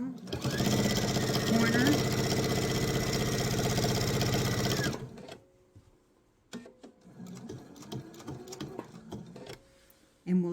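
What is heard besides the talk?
sewing machine stitching a laptop sleeve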